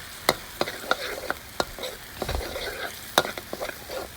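Red curry paste is stirred into coconut milk in a sizzling pot, a steady soft fry with scattered sharp clicks of the spoon against the pot.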